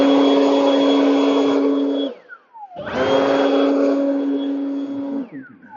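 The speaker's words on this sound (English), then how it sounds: "This little battery handheld blower is a beast. It packs a punch." A small battery handheld leaf blower runs in two close, loud bursts with a steady high whine, each spooling down with a falling pitch before it starts up again.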